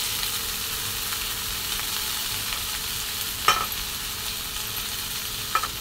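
Shredded cabbage frying in a pan of hot oil seasoned with mustard seeds, cumin and curry leaves, giving a steady close sizzle with a couple of sharp stirring clacks.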